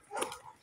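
A single dog barks once at moderate distance on a city street where graffiti is being painted, a short sharp yelp with a faint trailing tail.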